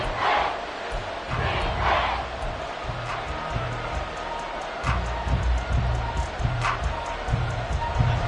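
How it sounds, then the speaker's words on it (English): A football stadium crowd at a Packers versus Saints game roars steadily ahead of a big third down, a dense continuous swell of cheering with a commentator talking over it. "the crowd getting into it as we come up on a big third down"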